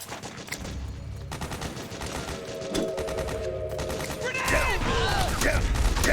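Bursts of automatic gunfire and explosive crashes from the Metal Gear Solid 4 video game fill the mix continuously, loud and dense, with layered game effects and a rising chirping tone near the end.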